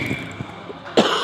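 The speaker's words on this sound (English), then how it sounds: "I'll try my best to smother the cough." A single short cough, fairly close, followed by a brief throat-clearing sound in an otherwise quiet space, at an ice hockey game in an ice arena.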